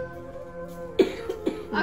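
A person coughs indoors at home: three or four short, close coughing bursts in a quick ragged series after a quiet, faintly humming room.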